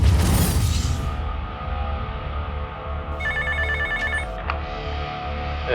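A telephone rings with bright electronic trilling tones in a civil defense safety scenario, loud and close, following a burst of whooshing noise, with no voices over it.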